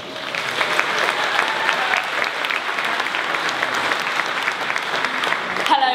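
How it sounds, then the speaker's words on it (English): Continuous audience applause at a City Academy Norwich dance show, a dense, steady wash of many hands clapping at even loudness for the full stretch, without audible talk. "please give a massive round of applause for Jess and Molly from City Academy Norwich"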